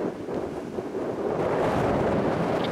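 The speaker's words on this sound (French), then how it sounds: "c'est venteux" Wind at Land's End buffets the microphone in a continuous, rough roar, steady and fairly loud, with no voices.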